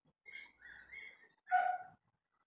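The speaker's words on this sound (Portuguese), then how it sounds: "Esse cachorro não fica quieto." A dog barks a few short times nearby, a quick cluster of yelps followed by one louder bark, with nothing else around it.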